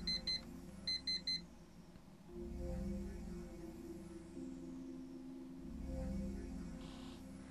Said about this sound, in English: I hate the alarm clock.